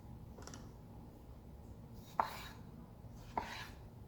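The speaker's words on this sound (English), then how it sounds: "The next thing we're going to cut up is our tomatoes." A knife cuts Roma tomatoes on a board in three quiet, sharp chops spaced about a second apart, with no other sounds around them.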